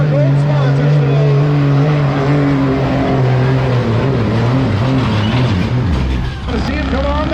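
A Duramax diesel truck roars loudly and continuously while pulling a sled at a sled-pulling event, engine pitch shifting as it strains, with a voice over the loudspeaker mixed in.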